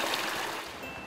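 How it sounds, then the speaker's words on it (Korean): Flowing water of a stream in a pine forest along a mountain trail, a steady broadband rush and trickle heard close and continuous, with no voices. "아, 물소리 좋다, 그죠? 물소리가 들어."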